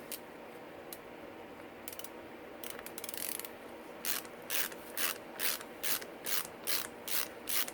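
Ratchet wrench tightening down a rear shock absorber on a Yamaha YZ motocross bike, a run of about ten evenly spaced, close clicking bursts that grows steadier and louder toward the end, with a few scattered rubs and clicks before it.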